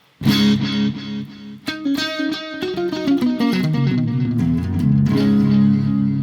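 Electric guitar played through a Boss GT-1000 with clean delay and reverb on the dry signal: a strummed chord rings out, then a run of picked notes repeats in echoes that blur into a sustained wash, ending on another struck chord.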